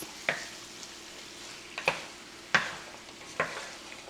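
Oxtail and tomato paste are stirred in a pot over a quiet sizzle, with four distinct utensil scrapes and knocks spaced irregularly against the low background frying.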